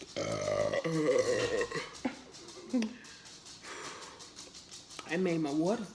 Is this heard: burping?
yes